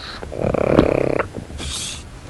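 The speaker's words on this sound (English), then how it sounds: "His snoring dog." A pug snores indoors, close and fairly loud: one long, rattling, buzzy inhale followed by a softer, snorting breath, with no talking.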